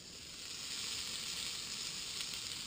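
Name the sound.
chicken wings sizzling on a hot barbecue grill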